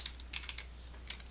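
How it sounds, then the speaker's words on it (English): Quick bursts of typing on a computer keyboard while entering JavaScript code, light clicky keystrokes in uneven clusters, close and clear with no talk. "the last line of code that we'll type is document.getElementById"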